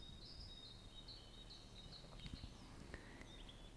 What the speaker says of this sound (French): Peu à peu, vous entendez le chant des oiseaux.